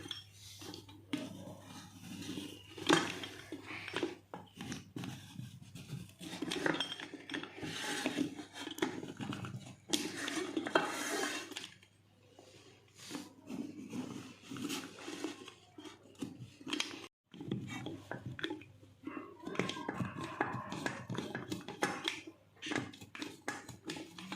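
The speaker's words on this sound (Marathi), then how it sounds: "आपल्याला जेवढ्या आकाराची वडी पाहिजे ना लहान मोठी तेवढं कट करून घ्यायचं गरम असतानाच." A knife cuts hot sesame fudge into pieces inside a pan, giving repeated close scraping and rubbing strokes of metal against the pan with brief pauses and no talking.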